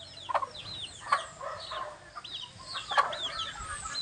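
A rooster, a proven fighting-cock breeder, clucks in short irregular bursts at close range, with other fowl faintly calling in the background.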